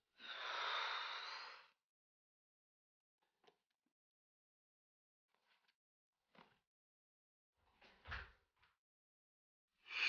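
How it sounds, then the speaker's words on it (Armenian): A few scattered knocks sound on a door at home, faint and irregular, following a loud breathy snort at the very start; the room is otherwise quiet. "Դուրն են ծեցում գնա դուր բաց։"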